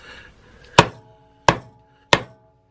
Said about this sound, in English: So all we need now is a light tap,